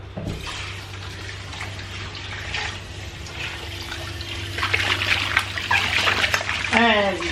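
Tap water running steadily into a kitchen sink while dishes are washed, a close continuous splashing trickle that grows louder toward the end, with voices talking over it.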